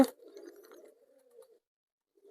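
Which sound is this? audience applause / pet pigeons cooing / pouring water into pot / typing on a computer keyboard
pet pigeons cooing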